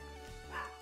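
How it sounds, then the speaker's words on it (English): A pet dog barks indoors, a short yip-like bark rising briefly over a steady low hum, fairly faint and close, with no one talking. "My dog is barking."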